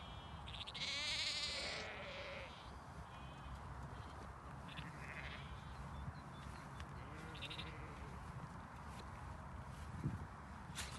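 Spring lambs bleat in hilly Derbyshire Peak District farmland near Hopton, a few calls rising over steady outdoor background noise, with one louder nearer bleat early on.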